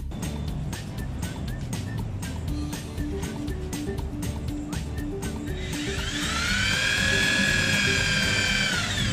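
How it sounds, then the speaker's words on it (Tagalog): A power drill driving a screw into wood runs steadily and close, with a rising whine toward the end as the screw seats, over a busy mechanical background. "papasok po dapat yung screw para hindi porsyado yung kahoy"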